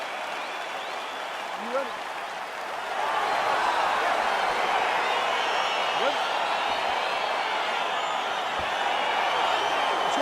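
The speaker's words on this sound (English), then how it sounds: "crowd getting excited as this fight gets underway" Arena crowd in EA Sports UFC 4 swells into a steady cheering roar as an MMA fight begins, rising after a quieter opening, with a brief spoken question over the noise.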